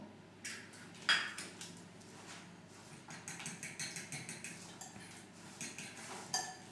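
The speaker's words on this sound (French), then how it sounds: "Et nous mélangeons." A spoon or whisk stirs a pear and almond tart mixture in a bowl, with steady, rhythmic clinking and scraping strokes against the sides that run close and moderately loud throughout.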